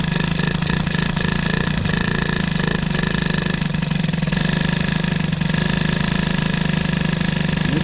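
A Peugeot 103 moped with a Doppler engine and boost setup, idling just after carburettor tuning, runs with a steady, close putter that holds an even rhythm throughout, with no talk over it.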